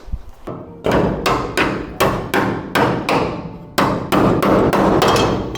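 A hammer strikes rusty car body metal on an Audi 100 C1 about a dozen times in an uneven rhythm, each blow a sharp, loud clang with a short ringing decay.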